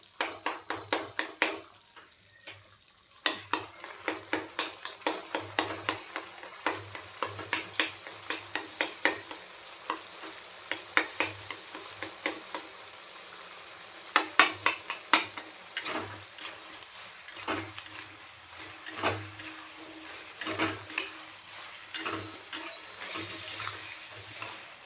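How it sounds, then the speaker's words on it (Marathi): Tomatoes mashed in a cooking pan for a dhaba-style chicken curry, a series of close, sharp wet squishes and scraping taps coming in uneven bursts over a faint sizzle. "टोमॅटो आता आपल्याला अशा पद्धतीने यामध्ये मॅश करून घ्यायचे."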